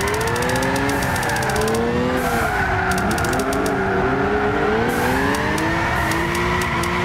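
A 400hp Nissan Sileighty drifts around High Speed Ring in Gran Turismo 6, engine revving and wavering in pitch with continuous tire squeal and skidding, loud and steady throughout.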